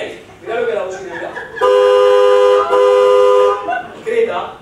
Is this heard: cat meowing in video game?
no